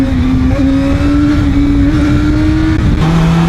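A ZXMOTO 500F inline-four motorcycle engine revs loud and close, holding a steady high whine that steps up and then drops near the end, alone with no voices.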